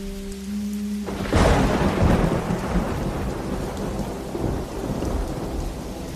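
Heavy rain pours at night as a loud thunderclap breaks in and rumbles on, with dense, roaring rainfall continuing steadily beneath the fading thunder.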